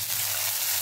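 Green chillies and cumin sizzling in hot oil in a pan for a Marathi fasting-style okra dish, a steady, close, continuous hiss with no pauses or talk.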